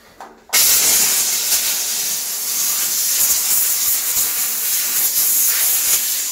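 A Kärcher steam cleaner fires a jet of steam from its strongest, narrow nozzle onto a matte-painted kitchen surface, a loud, steady hiss that starts abruptly and holds without pause.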